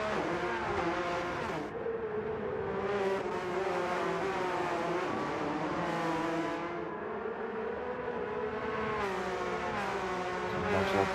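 Porsche Cup race cars in a racing video game, a pack of engines droning and shifting pitch together for several seconds, steady and loud with no talk.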